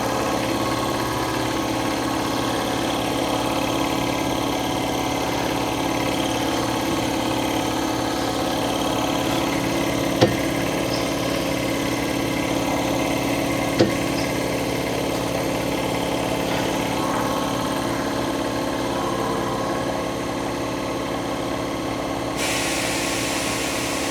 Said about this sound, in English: Sorry about the compressor, but hey, we're in a shop and that's just kind of the luck you get.